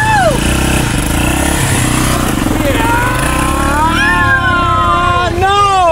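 A motorcycle engine revs and whines loudly and close while riding down a sledding hill, its pitch sweeping up and down with shouting voices over it.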